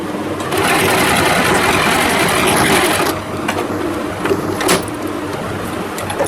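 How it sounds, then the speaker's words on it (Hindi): A sewing machine runs steadily, stitching fabric for a small Krishna idol outfit, a pajama suit and umbrella-cut lehenga, in a loud continuous whir for about three seconds before dropping to a softer mechanical hum. "दोनों हाथ से पकड़ के इस तरह से सिलाई लगा, एक बार और सिलाई लगा देंगे ताकि ये पक्का हो जाए।"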